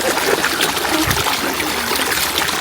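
A flowing stream of cold, clear water trickles and splashes continuously up close, a busy bright babble with no one speaking.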